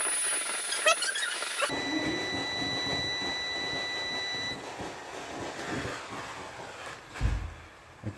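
A DIY solar panel theft and early fire detection alarm sounds with a steady high-pitched electronic beeping tone during a burn test, then cuts off, leaving quieter rustling and handling noise with a thump near the end.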